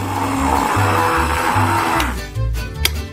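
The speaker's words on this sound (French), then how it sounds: "Il faut broyer les graines de café en poudre." An electric grinder reduces coffee beans to powder with a loud, pulsing motor whir that cuts off after about two seconds, followed by a few light knocks and rattles.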